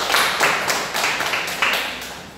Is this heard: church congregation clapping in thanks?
yes